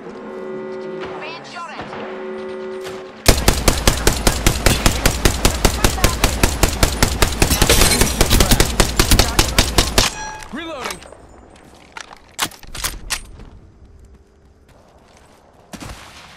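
Rapid automatic gunfire from the video game Apex Legends rattles in a long, loud, evenly spaced burst of around seven seconds, followed by scattered single shots and impacts, with players talking before and after.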